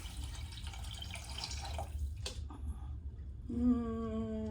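Water pours steadily into a pot over bones for bone broth, a continuous splashing flow followed by a ringing tone near the end.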